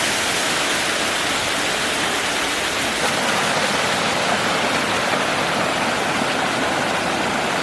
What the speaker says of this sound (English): There's a nice stream right here.